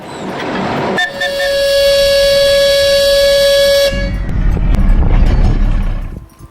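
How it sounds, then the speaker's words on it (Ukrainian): A loud diesel locomotive horn on a Polesia narrow-gauge railway sounds one long sustained blast lasting about three seconds, with rail rumble before and after. "характерний гудок тепловоза"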